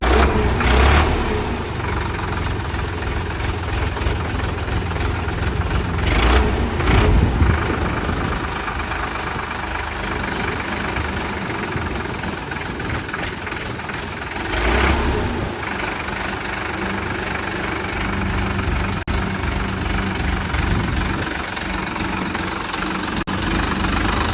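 An Indofarm 3048 tractor engine idles with a steady low chug and vibration, punctuated by a few louder knocks and bumps along the way.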